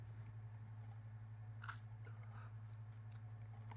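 Chewing of White Mule chewing tobacco, with a few soft, close mouth crunches and bites over a steady low background hum, no talking.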